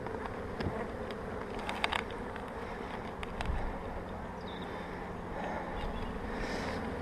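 A few honeybees linger around a spring hive during an inspection, their steady buzzing droning continuously at close range with faint rustles and knocks, no talking.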